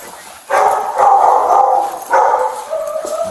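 Dogs at a home during a police domestic call bark and whine in loud, drawn-out yelping bursts, close by and repeated over a few seconds.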